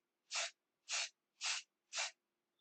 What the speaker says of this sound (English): So let's use some spray.